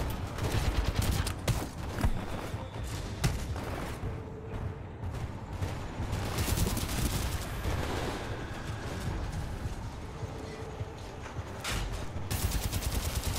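Gunfire in the Titanfall 2 campaign, sustained rapid bursts of shots crackling almost continuously with brief dips, dense and fairly close amid battle noise, no talking.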